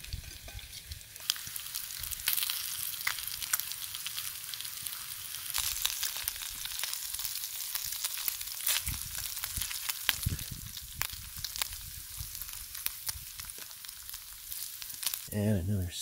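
Campfire in a remote wilderness lake backcountry setting, crackling and sizzling steadily with sharp pops as sticks are added, a constant close hiss running throughout.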